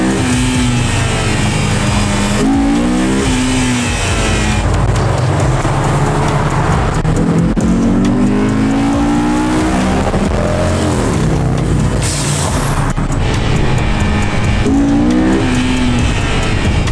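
A Honda S2000 track-day car accelerating hard on a street roller run, its engine note rising in repeated climbing revs and gear changes, loud and close with steady road and wind roar underneath.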